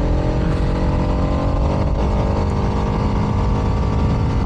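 A Bajaj Pulsar RS 200 motorcycle engine runs steadily at moderate revs, a loud, continuous close-up drone with a slight swell near the middle and no voices.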